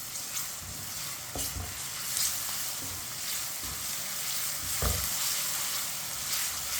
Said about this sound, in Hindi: लहसुन को 2 मिनट के लिए पका लेंगे।